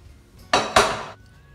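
Choux pastry dough lands in a large mixing bowl with two quick, close clanks of utensil against the bowl and a short metallic ringing afterward, then quiet.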